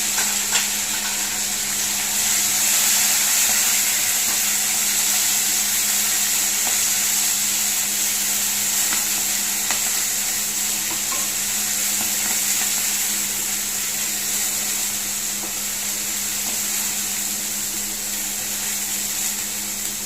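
Coriander and fenugreek leaves with ginger-garlic paste fry in a pan for an Andhra-style chicken curry, giving a steady, close sizzle with a constant hum underneath and no talking.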